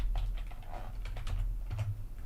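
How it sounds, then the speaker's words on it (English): Typing on a computer keyboard: a quick run of light, irregular key clicks, close and fairly soft, over a low background hum. "I'm going to actually type GameStop right now."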